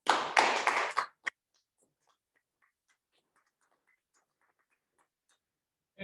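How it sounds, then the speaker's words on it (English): An audience at a board meeting applauds in a short burst of clapping lasting about a second, followed by a single clap and near silence with faint scattered noises. "So hands up and a big round of applause for Sharon."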